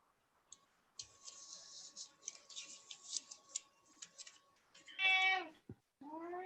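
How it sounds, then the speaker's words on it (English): A cat meows twice near the end, clear and close. Quiet ticking and clicking fill the room beforehand. "Is the cat trying to get in on a free reading, maybe?"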